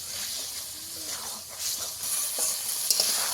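Bombay duck fish stir-fried in a pan, a soft steady sizzle with occasional stirring scrapes, fairly quiet and close.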